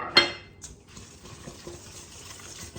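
Mushroom caps tossed in oil in a pan make a soft, steady scraping and rustling, with a sharper clink near the start and faint sizzling underneath, close and fairly quiet.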